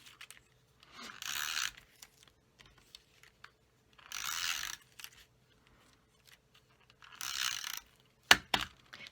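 An adhesive tape runner is pressed and drawn across designer series paper on a silicone mat, giving three separate raspy, crackling strokes of about a second each, followed by a couple of sharp clicks near the end, with no talking.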